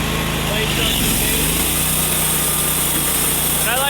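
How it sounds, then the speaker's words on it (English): A Wood-Mizer LT15 sawmill engine runs loud and steady with the throttle up as the blade engages, giving a constant droning hum with a rising whine near the end. "The throttle's up. The blade starts to engage."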